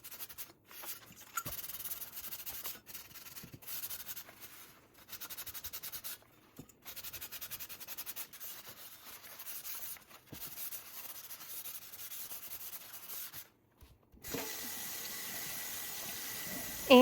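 Scrubbing a stove drip pan with the Pink Stuff cleaner: steady abrasive rubbing and scouring strokes continue with brief pauses, close and fairly loud, with no talking.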